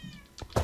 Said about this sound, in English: Bro, why do we have a cat named Axel?